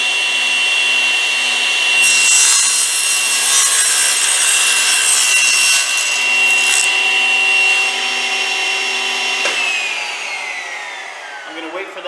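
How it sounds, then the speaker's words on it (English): A table saw cuts wood pushed through with a miter gauge: a loud steady blade whine, harsh cutting noise through the middle of the pass, then the tone falls away as the blade spins down. "I'm going to turn on the blade and I'm going to slide the wood and the miter gauge together like they're one unit."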